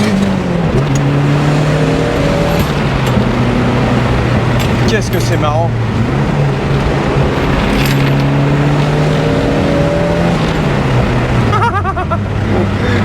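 A Ford Escort RS Cosworth with a four-wheel-drive turbo engine accelerates through several gear changes, its engine note rising and dropping repeatedly, loud and close inside the cabin while someone talks over it.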